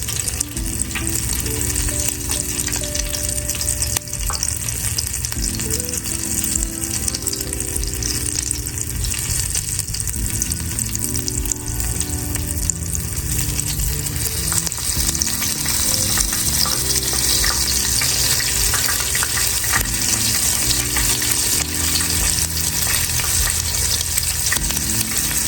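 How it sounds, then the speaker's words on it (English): Stuffed lobster tail egg roll deep frying in hot oil, a steady loud bubbling sizzle that holds without a break, with no voices. "I'm just gonna fry every side until it's crispy."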